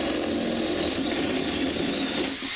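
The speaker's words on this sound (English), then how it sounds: "I'm drilling some strategically placed holes." A power drill whirs steadily as it bores into material, a close and continuous mechanical whine with no talking.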